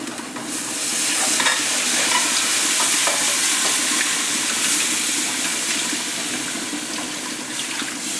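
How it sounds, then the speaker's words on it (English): Chicken stock poured into a hot pan to deglaze for chicken piccata, a steady loud sizzle and bubbling hiss that holds for several seconds, with faint stirring scrapes and no talk. "Ready to deglaze and add our stock."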